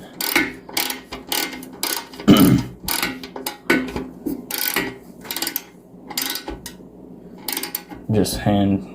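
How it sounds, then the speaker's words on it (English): Metallic ratcheting and wrench clicks from bolts being tightened on a Yamaha YZ250 dirt bike during a rebuild, coming in short irregular bursts close by, with people talking over the work. "So now he's gonna tighten this top bolt."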